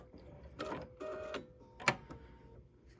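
A sewing machine runs in short bursts as it backstitches at the end of a seam on a 1930s sampler quilt block, with a brief sharp thread-cutting snap partway through, quiet and close.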